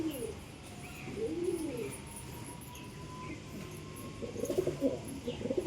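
Soft, throaty cooing from pigeons in a pigeon house comes in bursts at the start and again toward the end, with quieter murmuring between, moderately close over a low background hum.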